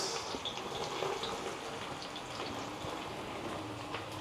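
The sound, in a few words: onions and vegetables frying in hot oil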